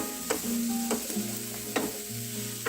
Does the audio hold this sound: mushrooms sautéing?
yes